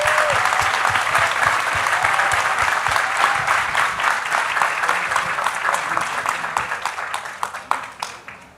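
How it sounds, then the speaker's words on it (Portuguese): An audience at a literary event in Itabira gives sustained, loud applause, dense clapping that continues for several seconds and gradually thins out toward the end. "Então, uma salva de palmas, por favor,"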